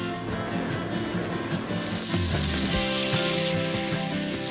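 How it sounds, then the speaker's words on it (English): Steady sizzling of onions frying in olive oil in a pan, continuous and close, with some clattering and mixed kitchen noise underneath. "Just frying these onions produces the most amazing smell."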